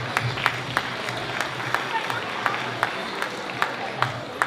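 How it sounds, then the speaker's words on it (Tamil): Audience applause for a dance school troupe after their performance at a Tamil New Year celebration, steady clapping from a crowd in a hall with distinct claps punctuating the wash, moderately loud. "நாட்டிய யோகா பள்ளி குழுவினருக்கு ஒரு கைத்தட்டல்களை கொடுத்து விடலாமா?"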